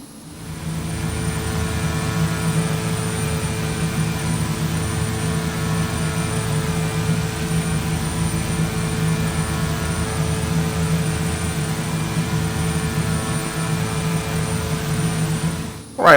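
Twin turboprop engines of a King Air C90B in the X-Plane 10.5 flight simulator during a climb at about 600 feet per minute, a steady low drone with a hum that holds level and continuous throughout.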